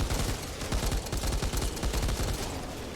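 Sustained fully automatic fire from an LMG machine gun in the video game Back 4 Blood, with rapid evenly spaced shots in a steady loud stream for the whole clip and no talk.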